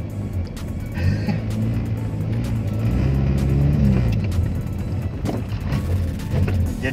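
Carbureted engine of a 1986 Toyota Corolla SE Saloon idling close up, a steady low rumble that rises in a couple of gentle revs.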